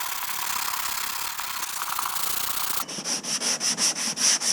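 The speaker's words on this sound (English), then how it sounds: "As I'm sanding, I'm going in an X pattern, kind of like a crisscross or a crosshatch." Steady abrasive rasping of a sanding block on fiberglass boat bodywork, first continuous and smooth, then broken into rhythmic crisscross back-and-forth strokes, close and fairly loud.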